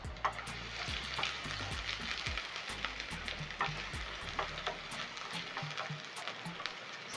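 Green onions and a red onion fry in a pan, a steady sizzle crackling throughout with repeated scraping stirs of a utensil against the pan, fairly close and with no voices.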